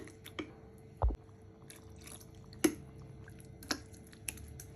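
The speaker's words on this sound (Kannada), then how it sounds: "ಸೌಟ್ನಲ್ಲಿ ಇನ್ನೊಂದು ನೀರು ಹಾಕ್ಕೊಳ್ಳೋಣ" A ladle of water going into sweet corn dosa batter gives a soft plop followed by a few scattered wet drips and squishy clicks, quiet and close against a low steady background.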